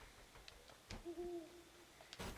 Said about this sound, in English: the owl is on spatial audio